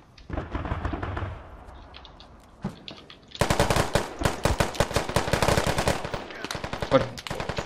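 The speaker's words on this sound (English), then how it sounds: "blind firing through the bush" Automatic gunfire in the Squad video game, blind firing through a bush: a few scattered shots, then a long, loud, rapid burst of close machine-gun fire with sharp repeated cracks.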